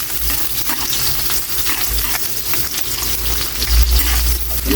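Chopped onions sizzle and fry loudly in a hot pan, a dense continuous crackle with occasional stirring scrapes, close and steady throughout.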